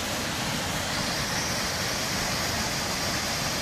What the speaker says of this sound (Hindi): आवाज़ आप लोगों को क्लियर क्लियर सुनाई दे रहा होगा इस झरने का